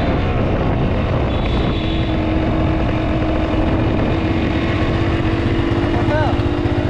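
A Kawasaki KX100 dirt bike with a fresh top end runs on its first ride, its loud, buzzing two-stroke engine droning steadily nearby with slight pitch shifts as it revs.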